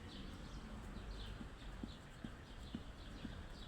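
Horse hooves clip-clopping in a slow, even rhythm, several soft distinct hoof strikes over a steady outdoor background hiss, with no talking.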